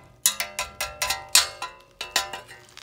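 An all-metal double DIN car stereo bezel for a box Chevy is tapped about a dozen times in a quick, uneven rhythm, each hit giving a bright, clanky metallic ring like a cowbell, close and alone.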